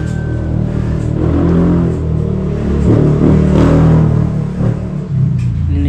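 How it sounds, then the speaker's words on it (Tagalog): A motorcycle engine with a carburetor in need of cleaning revs close by in loud, rising and falling surges over a rumbling idle. "Pinapaandar ko sana yung isang motor"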